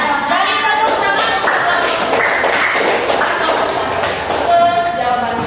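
Students clapping together in a classroom, loud and close, a dense run of sharp hand slaps and thuds that keeps going without pause from start to finish.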